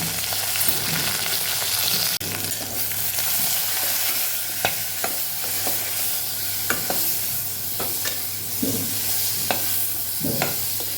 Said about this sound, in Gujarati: હળદર મીઠું ચડી જાય બસ એટલું જ ખાલી આપણે આમાં સાતળવાનું છે